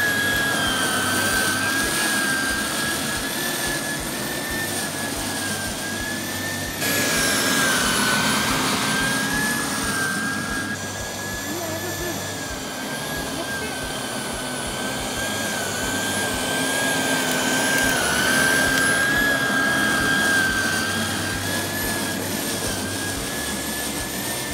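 A Sun Joe electric scarifier and lawn dethatcher runs continuously on a mossy, weedy lawn with a loud, close, high-pitched motor whine and a rough churning roar that briefly surges and varies in load.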